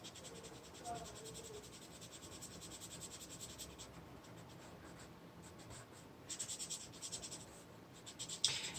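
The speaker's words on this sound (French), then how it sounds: "je vais tout le colorier avec mon jaune fluorescent" Fluorescent yellow marker colouring on paper, a continuous close scratchy scribbling with rhythmic back-and-forth strokes, faint and steady throughout.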